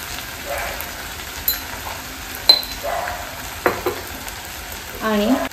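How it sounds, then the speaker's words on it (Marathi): Onion-garlic masala with salt, turmeric and red chilli powder sautéing in a pan for crab curry, a steady sizzle with periodic spoon scrapes and clinks against the pan. "यामध्ये छानपैकी परतून घेऊया."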